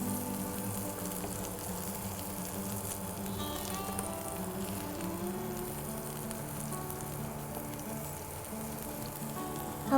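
Veg keema cutlets sizzle in butter in a pan, a dense even crackle like light rain that carries on unbroken, close up with no voices.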